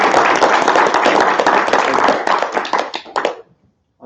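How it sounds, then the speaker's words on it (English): Conference audience giving a round of applause, dense loud clapping that thins into a few scattered claps and stops, then a brief voice begins. "Let's have another round of applause for Karl."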